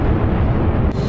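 Second missile firing from a fighter jet in the DCS flight simulator, a short, loud burst of roaring rumble that cuts off abruptly near the end.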